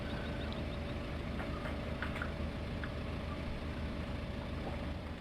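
A tractor engine idling in a farming simulator game, a steady low diesel rumble with faint clicks and knocks on top, continuous and moderately quiet.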